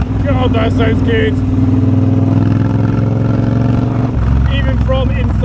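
A Triumph Bobber motorcycle engine runs steadily while being ridden, a loud, continuous mid-pitched drone heard from inside a helmet, with a brief dip near the end as gears shift and a voice talking over it.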